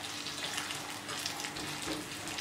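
Curry leaves and chillies fry in oil with a soft, even crackle and hiss that stays constant and fairly quiet throughout, with no talking.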